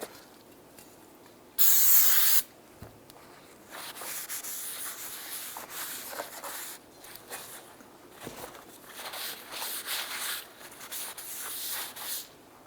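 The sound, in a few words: spraying solvent to clean brake rotors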